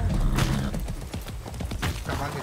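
Horse hooves clopping in a video game, an uneven run of hoof beats over steady background game noise.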